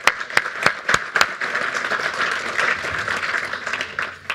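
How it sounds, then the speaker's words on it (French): A few sharp, separate claps ring out first, then a crowd joins in with steady, sustained applause that continues to the end. "j'ai juste envie d'une chose, c'est de vous applaudir, et vous pouvez le faire également avec moi"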